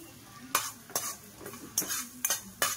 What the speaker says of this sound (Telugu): 1/2 స్పూన్ మెంతులు అయితే 1 స్పూన్ ఆవాలు ఫ్రై చేసుకోండి కొద్దిగా